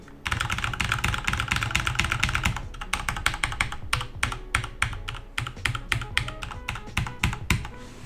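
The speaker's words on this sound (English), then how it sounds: "I'm going to give you a little sound test of what the MX Cherry Red switches sound like" Close, clattery typing on a Corsair K70 RGB keyboard with Cherry MX Red switches, first a fast dense run of keystrokes, then slower, separate clicks, with no voices.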